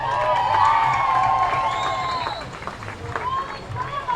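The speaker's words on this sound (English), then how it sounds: "Round of applause." Crowd cheering and applauding at a 2018 CCSA beach volleyball championship final between FSU and LSU, a steady outdoor roar of claps and shouts with whoops rising and falling over about four seconds.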